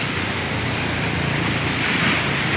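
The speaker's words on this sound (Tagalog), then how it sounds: "Sounds to ng alon at saka ingay ng mga sasakyan" Ocean waves rolling onto a shore make a steady, loud wash of surf that fills the whole short stretch without a break. No voices are heard.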